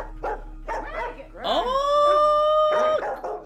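A dog barks in short yips, then lets out a long rising howl before more barking, fairly close and clear.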